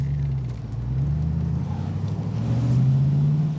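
A 2003 Morgan Plus 8, 35th Anniversary Edition, pulls away in first gear with a low, steady engine rumble that rises gently in pitch, heard from inside at moderate volume.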